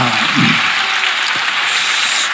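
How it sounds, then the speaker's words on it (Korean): Loud, dense clapping from a large crowd fills the whole stretch, steady and sustained, with a brief voice at the start. "다시 한번 박수하겠습니다."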